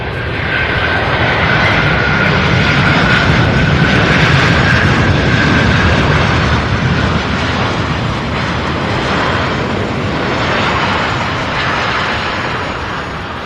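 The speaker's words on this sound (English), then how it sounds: "Beautiful MD-11 landing." A McDonnell Douglas MD-11 airliner lands at Louisville International Airport, a loud, continuous broadband jet roar with a steady whining tone that stays close and sustained throughout, with no talk.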